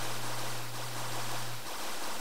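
Water flowing and gushing steadily in the Minecraft Tekkit modpack, a continuous close rushing wash with a low steady hum underneath for most of the moment, no talking.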